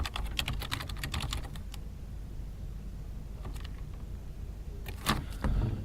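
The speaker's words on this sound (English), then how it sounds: "I've typed in a question, how do I look for volunteering roles?" Typing on a computer keyboard: a rapid run of close key clicks at the start, a quiet gap, then a few more scattered keystrokes near the end.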